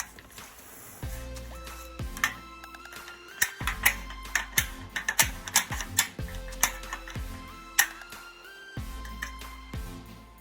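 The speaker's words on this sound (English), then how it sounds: "take off this metal rod that helps to make the blinds tilt" A metal tilt rod comes off faux wood blinds with a run of sharp metallic clicks, ticks and rattles, irregular and close by.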